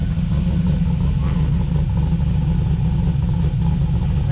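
A modified Camaro SS V8 with reworked heads and cam rumbles steadily and loudly up close, its deep, lumpy engine note holding throughout with no talk over it.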